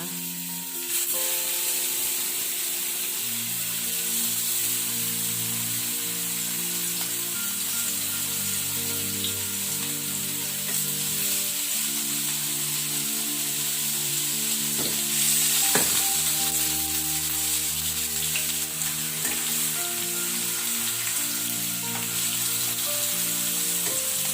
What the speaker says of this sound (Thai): แล้วเราก็จะเอามะเขือเทศของเรานะคะ ลงไป ย่างกระทะแบบนี้นะคะ